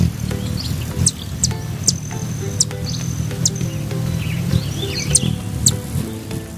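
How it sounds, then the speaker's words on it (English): A hummingbird gives repeated short, thin, high-pitched chirps and squeaks at irregular intervals over a low, steady background hum. "Hummingbird."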